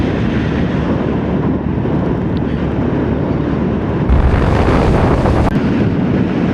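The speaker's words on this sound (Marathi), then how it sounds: "तुफान सुटला, वादळ वारा सुटला गो" Strong storm wind roars continuously in the mountains near Pangong on the way to Ladakh, blowing sand around and buffeting the microphone in a loud, unbroken rush that swells slightly louder toward the end.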